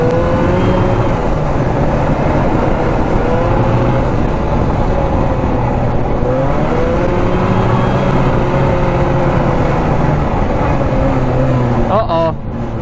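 A 50-year-old vintage Raider 34TT twin-track snowmobile engine drones loud and close while riding, pitch rising and falling with throttle, with a brief clatter near the end.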